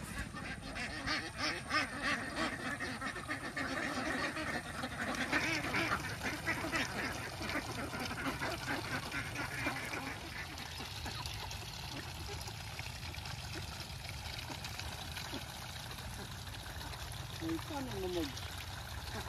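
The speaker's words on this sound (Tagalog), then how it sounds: "ngayon pala ay nagpapastog tayo ng itik" A flock of domestic ducks being herded through a rice field quacks continuously in a dense, overlapping chorus, with a person talking over it.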